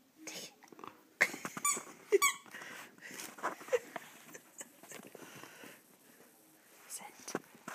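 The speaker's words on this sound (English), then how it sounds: "one of the many squeaky toy presents that she's had this morning?" A dog's squeaky toy, one of several Christmas stocking presents for a dog named Bramble, squeaks in quick bursts while the dog sniffs and a person talks softly nearby.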